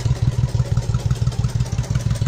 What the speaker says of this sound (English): Bike runs real good.